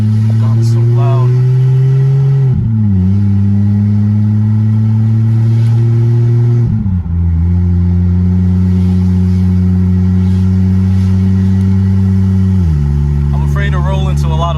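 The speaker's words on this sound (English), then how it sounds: "So we're gonna try to get it up to 40 miles per hour here." Single-turbo Lexus GS300 engine accelerating on the road, a loud droning tone stepping up through gears with brief dips at shifts, heard from inside the car.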